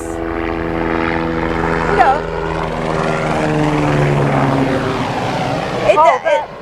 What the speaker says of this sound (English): The helicopters going by.